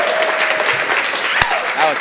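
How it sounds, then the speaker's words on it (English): Audience applause at a live festival event for a performer named Alex, a steady dense clapping crowd throughout, with some faint cheering and voices mixed in. "Y'all better make some noise for Alex."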